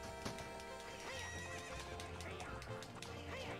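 Epona, the horse in Zelda: Ocarina of Time, whinnies over quick galloping hoofbeats during a race, with game music underneath.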